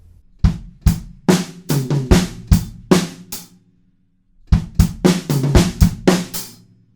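A drum kit plays a groove: a string of punchy kick and snare hits, a short silent gap, then the beat starts again, loud and close with no talking.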